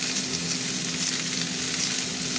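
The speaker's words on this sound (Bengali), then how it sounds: "এবার আমি সবজিগুলো দিয়ে দিচ্ছি, জল দেবো না বুঝেছো, এই তেলের মধ্যেই ভাজা হবে" Potato, snake gourd and pumpkin frying in oil without water, a continuous close sizzle with a faint steady hum underneath and no voices.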